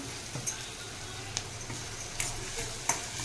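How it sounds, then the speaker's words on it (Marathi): Green moong curry masala, salted, being stirred and sautéed in a pan: a faint, soft sizzle with a few light scraping clicks from the spoon, no talking. "याच्यामध्ये मी आता व्यवस्थित असं चांगलं हे परतून घेते"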